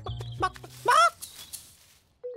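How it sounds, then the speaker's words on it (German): A few short clucks followed by a louder squawking cluck, close by, then quiet with a faint tone at the end. "Frau Huhn, darf ich mal in Ihr Nest sehen?"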